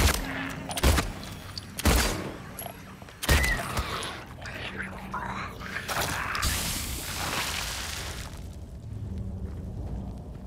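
A player fires a gun at an enemy in the horror game Silent Hill 2, three heavy, separate shots in the first few seconds, then a rumbling, whooshing tail with softer impacts.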